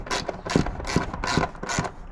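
A small hand ratchet tightening the rear light nuts on an MG ZT 260, five quick rhythmic bursts of clicking, close and clear with no talk.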